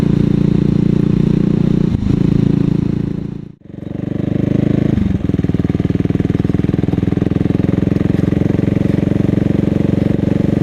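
A CCM Spitfire bobber motorcycle being ridden gives a loud, steady engine drone. The sound dips briefly for a moment, as if easing off for a gear change, then resumes a constant rumbling pull.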